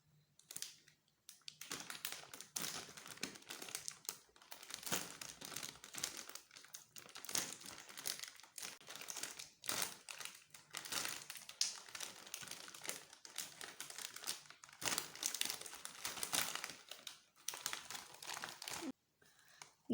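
An Uncle Chips snack packet crinkles and crackles as it is opened, in irregular bursts of close, fairly quiet plastic rustling with short pauses and no speech.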